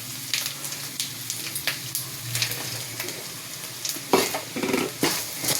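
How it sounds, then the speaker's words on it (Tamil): Dried red chillies fry in hot oil for tempering a puliogare seasoning, giving a steady close sizzle with spatula stirring scrapes and sharper crackles near the end; no one speaks. "அடுத்து காஞ்ச மிளகா போட்டிருக்கு."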